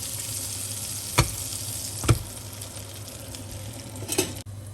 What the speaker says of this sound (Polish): będziemy na tym maśle ze smalcem smażyć chleb tostować go